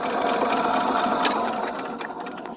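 A Sears engine being cranked over without starting, a fast steady mechanical whirr and clatter, loud and close, that eases off slightly toward the end, with no talking.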